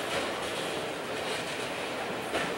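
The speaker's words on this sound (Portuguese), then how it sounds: "E o trem chega no Eldorado em descida." A train rolls steadily downhill along the rails with a continuous rumbling, rattling roar, close and constant with no pauses.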